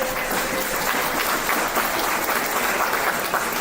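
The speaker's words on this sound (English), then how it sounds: "let's give Weber State a big round of applause" Applause from the crowd at a Utah high school esports championship finals thanks host Weber State, a dense, even patter of many hands clapping that stays steady throughout at moderate loudness without voices.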